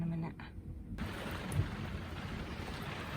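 Heavy rain pouring down around a motorhome on the NC500 route, a dense, steady hiss of downpour at moderate loudness after a brief quieter moment at the start.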